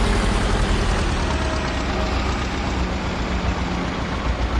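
A T25 tractor engine in Farming Simulator 22 idles steadily at close range, a low, even rumble that holds without change or talk throughout.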